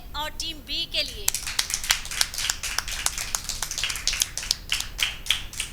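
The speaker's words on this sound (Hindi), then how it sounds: "तो हम भरपूर तालियां बजाएंगे टीम ए और टीम बी के लिए।" Schoolgirls and audience at a Christmas Bible quiz in a cathedral girls' high school clap for two quiz teams, a scattered run of sharp individual claps following a short stretch of speech.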